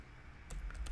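Computer keyboard typing while writing Selenium code, a quick cluster of key clicks in the second half after a quiet start, close and fairly soft.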